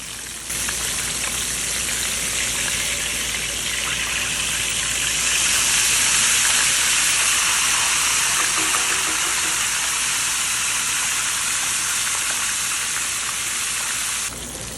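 Steady, loud sizzling of soft shell crabs frying in hot oil, a continuous crackling hiss that holds without pause and swells slightly midway.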